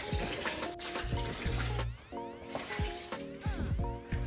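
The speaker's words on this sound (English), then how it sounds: "we're gonna take about 6 cups of water and add it to our macaroni" About six cups of water pour into a pot of macaroni, a steady splashing gush with sloshing and clattering, close and fairly loud throughout.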